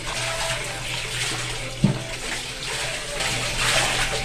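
Doormats are rubbed by hand in water, with steady sloshing and splashing, a low constant hum beneath, and one sharp knock partway through.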